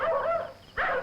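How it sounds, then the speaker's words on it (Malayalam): Dogs bark in two short bursts close by, with a brief quiet gap between them. "നായ്ക്കള് കുറിക്കുന്നു."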